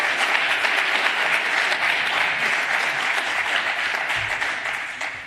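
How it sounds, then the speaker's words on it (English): Steady, dense audience applause at a hackathon prize announcement, loud and continuous throughout before tapering slightly at the end. "Please give them an applause."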